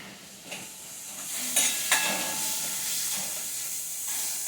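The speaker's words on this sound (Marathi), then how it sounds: "मी थोडीशी कोथिंबीर टाकते फोडणीमध्ये" Fresh coriander dropped into a hot ghee tempering for chole gives a hissing sizzle with a couple of sharp clinks of stirring. The sizzle is close and steady and rises slightly toward the end, with no speech.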